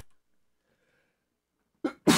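A single sharp sneeze from a person on a casual game-discussion chat, preceded by a quiet intake of breath after near silence, the burst loud and close at the very end.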